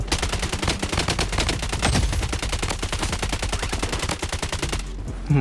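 Rapid automatic gunfire from the Blood Strike video game, with dual Uzi submachine guns firing long continuous bursts, loud and sustained before stopping abruptly near the end.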